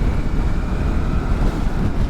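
Steady wind roar buffets a rider behind the windscreen of a Suzuki V-Strom 650 XT motorcycle at speed, a dense continuous rumble with no gusting breaks and nothing else audible.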